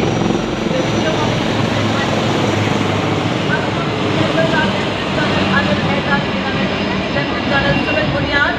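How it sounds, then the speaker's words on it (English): A loud, steady rotor drone of two advanced light helicopters flying in tandem formation over a Republic Day parade in New Delhi, dense and continuous, with some voices faintly mixed in. "2 advanced light helicopters flew above Army aviation."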